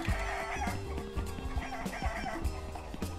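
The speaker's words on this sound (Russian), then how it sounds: "Нападение куриц!" Chickens cluck and squawk in the video game Bad Guys at School, loud and continuous, with busy game sounds and music running underneath throughout.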